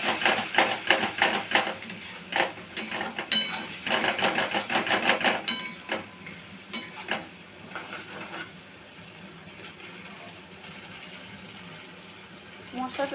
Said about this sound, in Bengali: এবারে এটা দিয়ে ভালো করে কষাবো।